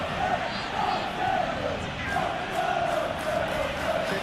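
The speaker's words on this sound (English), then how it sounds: "Crowd appreciates good football all round there." A Premier League football stadium crowd, Nottingham Forest against Manchester United, makes a broad roar that swells and falls in waves of cheering and applause. It runs steadily under a commentator's voice.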